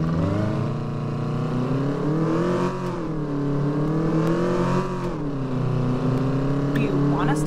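Engine of a Range Rover Evoque in the mobile game Taxi Sim 2020 revving up and down in repeated sweeps, loud and close, with a voice talking over the engine.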